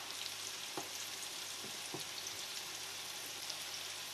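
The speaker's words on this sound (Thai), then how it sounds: "ใจเย็นๆทอดไปเรื่อย ๆค่ะ" Naem rice balls frying in hot oil, a soft steady crackle at low volume with a few faint pops and taps scattered through.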